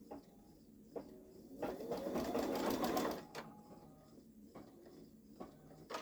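Babylock Solaris embroidery machine stitching on a sweatshirt, a steady mechanical whirr that swells loudest for about a second and a half in the middle, with quieter clicks and hum before and after.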